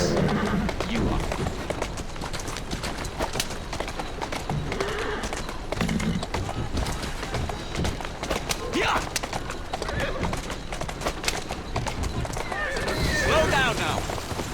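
Horse galloping in Assassin's Creed Syndicate on PS5, steady clip-clop of hooves on a Victorian London street with whinnies, busy street ambience and birds, continuous and loud under a character talking.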